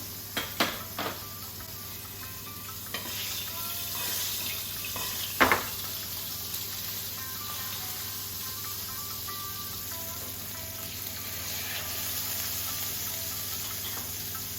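Two fish pieces frying skin side down in a hot pan of oil for a Bengali mustard fish curry, a steady soft sizzle running throughout with a few sharper pops and spits, fairly quiet and without talk.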